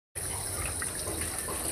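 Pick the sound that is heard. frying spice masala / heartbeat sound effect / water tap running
water tap running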